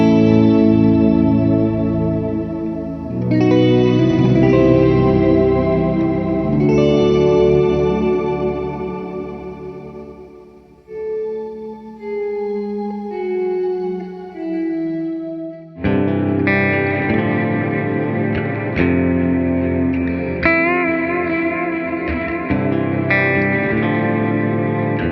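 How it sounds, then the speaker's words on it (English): An electric guitar runs through a Source Audio Encounter pedal, its volume swell feeding a dual shimmer reverb: sustained chords bloom in loudly, trail into a falling melodic passage, then swell again with bright, glistening overtones. "So I have the swell set up on the left side, running dual reverb, so the swell into the shimmers, and that gives you, that classic sound"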